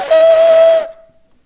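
A ram's horn blown by an amateur player gives one sustained, loud, breathy tone with a steady pitch that holds for under a second and then cuts off abruptly into silence.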